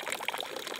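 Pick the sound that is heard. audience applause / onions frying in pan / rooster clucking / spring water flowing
spring water flowing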